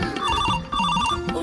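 A phone ringtone chimes steadily and fairly loud in a comic Bhojpuri skit, its repeating bell-like tones running the whole short moment with no voices over it.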